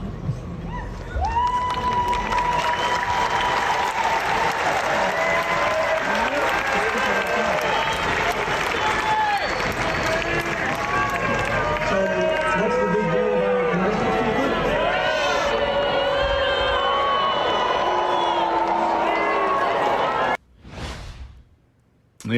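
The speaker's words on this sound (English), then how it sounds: "The crowd gave mixed reactions at best, cheering and booing being heard." A large crowd at a Duke University commencement during a student walkout roars continuously with mixed cheers, shouts and jeers, loud and sustained for about twenty seconds before cutting off abruptly.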